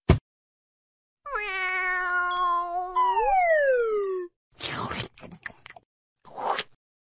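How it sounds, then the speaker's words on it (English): A cat gives one long, drawn-out meow that rises and then slides downward, followed by a few short, scratchy noises. "Cat."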